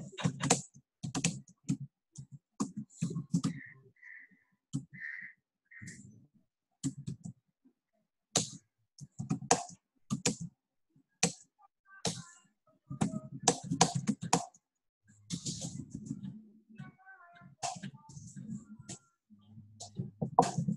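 Computer keyboard typing in bursts of rapid clicks, close and fairly quiet, with short pauses between runs of keystrokes and no talking.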